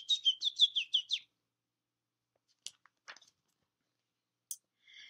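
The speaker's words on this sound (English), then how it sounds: "the robins sang cheerfully in the trees" Songbirds, robins in trees, chirp in a quick run of about six bright notes, followed by a few scattered short calls after a pause, close and clear with no other sound around them.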